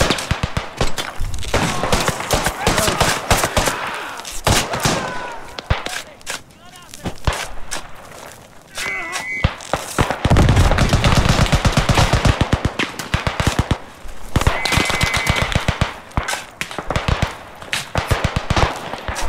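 Battlefield gunfire in the World War I shooter Beyond The Wire at Chateau-Thierry: bursts of rifle and machine-gun shots, some close and sharp, others distant, with footsteps and voices talking over the fighting.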